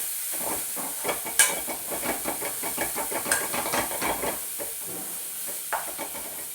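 Chopped spinach (cheera) stems being stirred in a hot pan, a steady sizzle and hiss under rhythmic scraping strokes of the spoon, close and clear with no talking.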